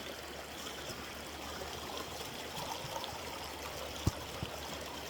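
Steady broadband rush of flowing water from a river running nearby in Canada, with a couple of brief knocks partway through.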